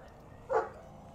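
A single short bark from a dog, one loud mid-pitched burst near the middle of a quiet moment, close by.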